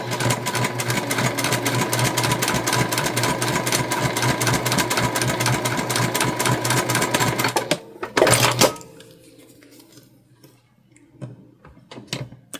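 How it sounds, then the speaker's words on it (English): A sewing machine stitches down a small fabric loop for a holiday project, a loud fast steady chatter of needle strokes for about eight seconds, then a brief clatter and quiet handling sounds. "And I'm just stitching about 1/8 of an inch away from the side."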